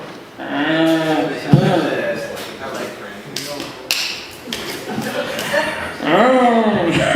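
Low, drawn-out mooing calls from several wildebeest played from a video, cow-like, rising and falling, with a few sharp knocks and some background chatter mixed in.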